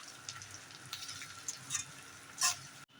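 Roasted chana dal and raisins frying in hot oil for poha chivda give a steady, fairly quiet sizzle with scattered crackles and a few stirring scrapes, and it cuts off abruptly near the end.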